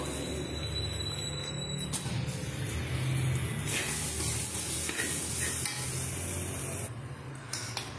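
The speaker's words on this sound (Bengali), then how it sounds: "এটা হচ্ছে ধনে গুঁড়ো দিয়ে দেবো, একটু কষিয়ে নেবো।" Spices fry with coriander powder in a pan, giving a steady moderate sizzle mixed with scraping and stirring noises and occasional metallic clinks of the utensil.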